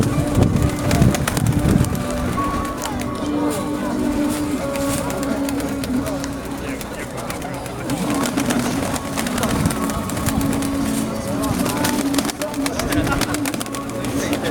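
Pigeons and decorative birds at a bird exhibition hall, a busy indoor din of cooing, calls and wing flutters, with people talking throughout.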